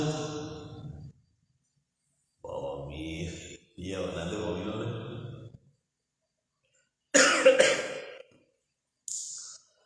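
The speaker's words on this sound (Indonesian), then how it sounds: "nanti batuk." A few short, throaty coughs sound close by, separated by pauses of silence, with one sharper burst near the end.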